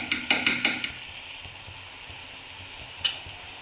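Eggs go into a hot pan for egg halwa, and a short run of sharp, close crackles and spatters starts things off. A steady low frying hiss follows, with one more burst near the end.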